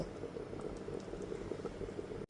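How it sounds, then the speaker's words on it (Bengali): A thin fish curry simmers in a covered pot over a low-to-medium gas flame, making a quiet, continuous bubbling with soft irregular pops throughout. "গ্যাসের ফ্লেমটা লো টু মিডিয়ামে রেখে 10 মিনিট ধরে খুব ভালো মতো মাছের ঝোলটাকে ফুটিয়ে নেব।"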